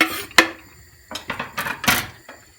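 A few soft thumps and light knocks of onions and garlic cloves being dropped into a metal pressure cooker, sparse and close, with short clatters between quiet gaps.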